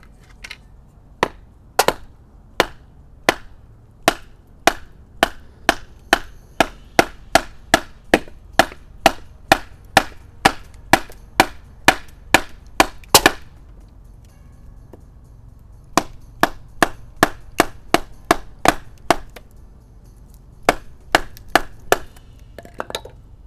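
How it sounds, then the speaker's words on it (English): Gerber Versa-Fix Pro blade batoned through twisted, knotty green wood, a long series of sharp, hard knocks at a steady pace, a short pause, then more strikes, close and loud with no talking. "Now we'll get to a little batoning test. I'm going to hit it right where it's meant to be hit, right here on the spine with the ridges."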